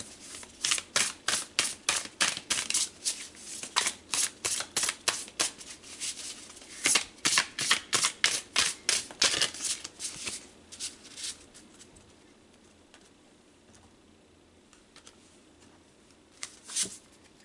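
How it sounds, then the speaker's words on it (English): Tarot cards being shuffled and pulled, a run of crisp, rapid riffling bursts up close, pausing, then another flurry, fading to quiet near the end with one last short snap of cards. "So let's pull some tarot to go with the love energies."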